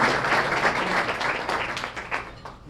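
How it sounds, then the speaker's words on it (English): A brief round of applause from an audience at a Student of the Month community lunch program, moderately loud and fading toward the end. "So let's give them all a great round of applause."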